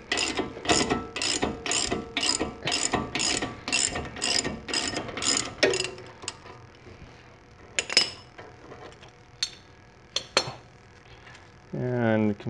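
About a dozen evenly spaced ratchet clicks as a suspension tool is loosened on the front upper control arm of an Aston Martin DB9, followed by scattered metallic clinks and handling noises.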